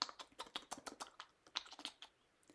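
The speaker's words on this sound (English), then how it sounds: "That's the sound of a very happy, very stroppy wombat eating grass just outside my bedroom." A wombat eating grass just outside a bedroom at night: quick, irregular crunching and tearing bites, close and fairly quiet, with no voices.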